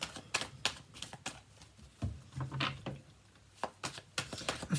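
Tarot cards being shuffled by hand, a series of papery riffles and soft slapping flutters in uneven bursts, close and fairly loud in a quiet room.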